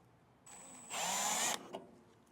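A power drill drives a kit screw into an RV step bracket for Lippert SolidStep steps on a 2021 Grand Design Reflection, a brief high whine rising to a louder grinding burst as the screw seats, then a click.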